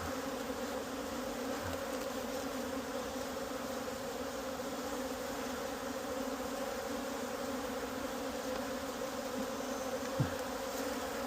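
A steady, dense insect drone of many bees buzzing together, continuous and fairly close, with no talking.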